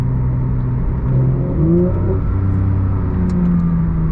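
A Porsche 992 GT3 Touring's naturally aspirated flat-six engine revs and pulls steadily, a loud, close, continuous drone with its pitch rising and falling across several gear changes and no voices.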